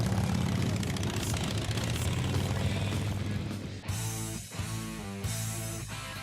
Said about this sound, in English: the Shovelhead motor looks the most like an old radial aircraft motor. It's just very mechanical. You can hear it running.